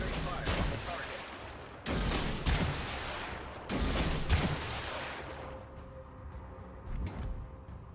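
Heavy gunfire at a target in a combat video game: three big booming volleys, each a sharp blast trailing into rumbling decay, with a fainter shot near the end.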